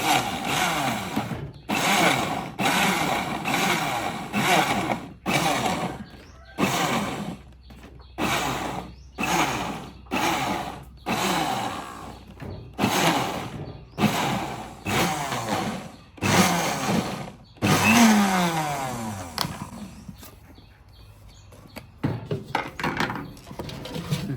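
Blender coarsely grinding dumpling filling with very little water, running in a long series of short pulses with brief gaps between bursts, loud and close, with no talking.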